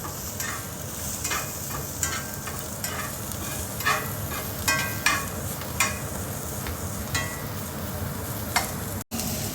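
Broccoli is stirred in sesame and olive oil in a cast iron skillet, with a continuous close sizzle and frying hiss broken by repeated scraping, clinking stir strokes.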